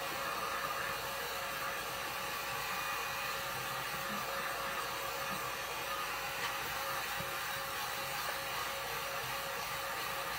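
A hair dryer blows on rice paper laid on a knife block during a DIY upcycle. Its steady, loud whooshing hum runs unbroken from start to finish with no talking.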